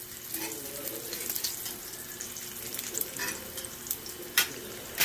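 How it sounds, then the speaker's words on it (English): Eggs frying in bacon fat from pre-smoked bacon, a steady close sizzle and crackle with a few sharper pops and spits, no talking over it. "we'll do eggs on the nice bacon fat here"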